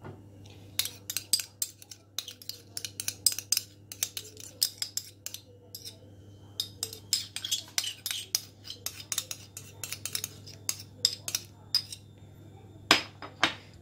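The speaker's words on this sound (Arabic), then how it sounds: "وغادي نخلط هاد العناصر كلها مع بعضياتها." A spoon mixes barbecue sauce with other ingredients for oven potatoes and chicken wings, clinking and scraping in rapid, irregular bursts against the bowl over a constant low hum, with a sharper knock near the end.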